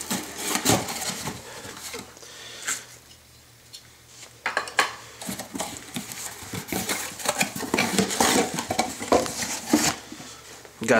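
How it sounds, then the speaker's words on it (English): A Japanese kitchen knife with a blue handle cuts into and pries open a Seiko watch box, giving close scraping, tapping and rubbing sounds with knocks of cardboard and metal, in uneven bursts. "Since it's a Japanese watch, I thought I'd use the Japanese knife to open it"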